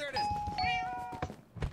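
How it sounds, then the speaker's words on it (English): A doorbell chimes inside a house in Minecraft, two clear ringing tones one after the other, followed by a few soft thumps. "Oh, there is a doorbell."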